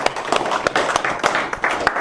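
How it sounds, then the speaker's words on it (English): An audience applauds and claps for a speaker recounting a Hurricane Katrina experience, the clapping dense and sustained with sharp hand-slaps over a steady wash, fairly close. "Let's clap it up for Niece, man"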